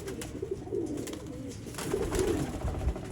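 Young pure Kamagar pigeons coo in low, repeated throaty phrases, close by and moderately loud, with a steady background murmur.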